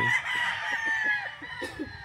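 Roosters and stags crowing at a large chicken farm, a loud drawn-out call up close with clucking and other fowl noises underneath.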